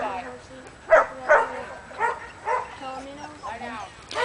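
A young McNab/Border Collie herding dog gives several sharp, excited barks and yips at close range, spaced about half a second apart, while people talk nearby.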